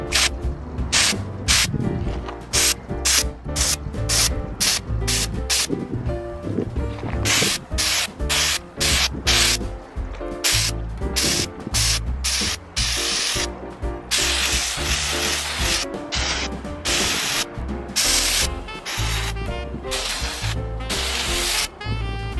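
Snow-effect spray paint hisses in repeated short bursts onto a hanging Christmas decoration, loud and close, with rapid rhythmic rattling pulses and a few longer sustained sprays.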